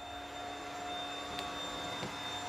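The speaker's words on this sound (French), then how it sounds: "on passe maintenant à la salle des machines" Machinery in the engine room of a Sirena 88 yacht drones loudly and steadily, a constant broadband roar with a fixed high whine, plus two brief clanks.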